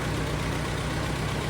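A Massey Harris 22 tractor engine idles steadily and loud throughout, a continuous low rumble with even firing pulses and no talk over it.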